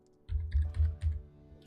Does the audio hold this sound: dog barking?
no